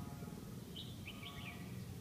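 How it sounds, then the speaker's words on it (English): A few faint bird chirps at sunrise in Chiang Mai, Thailand, come through a steady low outdoor rumble, scattered and distant. "The birds really add to the experience of the morning."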